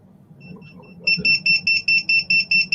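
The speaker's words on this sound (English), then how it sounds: "So you hear it beeping." An electronic beeper starts with faint short tones, then jumps to loud, evenly spaced beeps repeating about every quarter second, close and alone above a low background hum.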